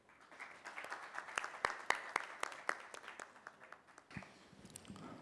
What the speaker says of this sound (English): let's have a huge round of applause for all of them